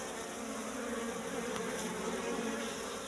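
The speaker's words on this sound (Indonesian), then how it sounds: "Jadi lebah ini lebah yang benar-benar berada di alam liar yang masih bersarang di sini" Wild Apis cerana bees swarming at their natural nest, a dense, continuous buzzing drone heard up close and fairly faint, with no voices.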